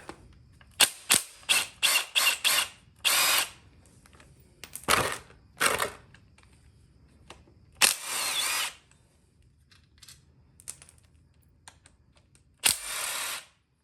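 An impact wrench removing bolts from a Nissan 350Z rear differential fires in short rapid bursts, then longer whirring runs separated by pauses, loud and close with quiet gaps between.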